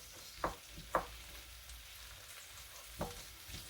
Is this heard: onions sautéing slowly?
yes